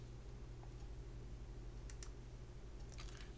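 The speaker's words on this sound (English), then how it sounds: "I'm typing 6 in the VCB." Typing a value on a computer keyboard while working in SketchUp: a couple of quick, faint key clicks over a steady low hum, with no voice.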